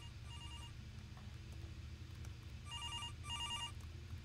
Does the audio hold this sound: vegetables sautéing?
no